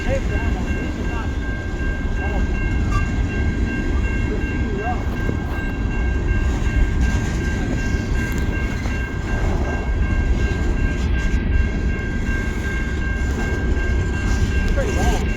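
A long Norfolk Southern coal train rolls past steadily, its wagons producing a continuous loud rumble with faint rhythmic clatter, while people talk quietly nearby.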